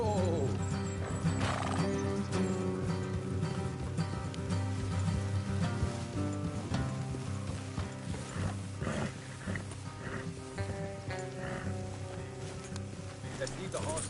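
Horses whinny and hooves clip-clop in the Western video game Red Dead Redemption, repeated neighs over a dense layer of game music and effects, with voices talking throughout.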